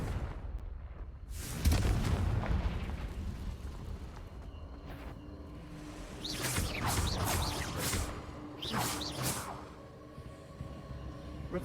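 A Confringo fire spell explodes in the video game Hogwarts Legacy, a sudden loud burst followed by a run of crackling, whooshing magical blasts with rumbling game background underneath.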